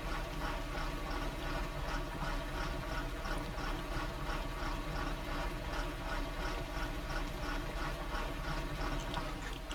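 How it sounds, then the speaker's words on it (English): A Farming Simulator 19 tractor with a big cam engine runs at a steady idle, a continuous mechanical drone with rhythmic ticking and rattle, fairly faint and alone without talk. "Sounds like this tractor has a big old big cam engine in it or something."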